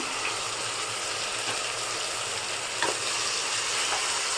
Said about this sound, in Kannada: ಹಸಿ ವಾಸನೆ ಹೋಗಿ ಎಣ್ಣೆ ಎಲ್ಲ ಕಂಪ್ಲೀಟಾಗಿ ಬಿಟ್ಕೋಬೇಕು ಅಲ್ಲಿವರೆಗೂ ಫ್ರೈ ಮಾಡ್ಕೊಳ್ಳಿ